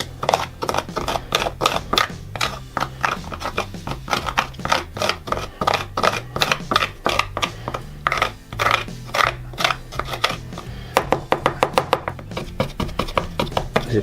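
Dense, rapid tapping and scraping as smoothing filler powder is stirred and mixed for a scrapbooking page, a steady busy rhythm of short clicks running throughout with a low hum beneath and no talk.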